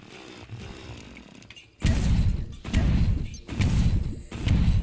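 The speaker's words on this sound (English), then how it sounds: "This impact drill." An impact drill mines blocks in the video game Terraria, with a grinding mechanical burst that kicks in abruptly and repeats in loud, chunky pulses with brief gaps, preceded by quieter clatter.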